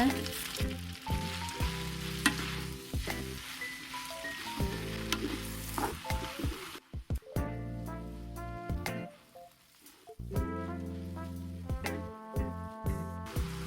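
Tofu skin sizzles in a pan over medium-low heat, a steady frying hiss broken by a brief stirring lull midway, then resuming with scattered crackles and scraping, close and fairly loud.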